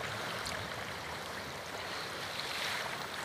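Swollen river water at Surdi village, where there is no bridge, rushes with a dense, steady roar. It is loud and unbroken throughout, with no voices.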